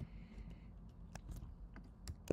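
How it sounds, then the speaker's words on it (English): Typing on a computer keyboard while entering an email into a Rust Dioxus app: sparse, quiet key clicks spread irregularly through a faint background hum, with a sharper tap at the end. "as soon as I'm typing"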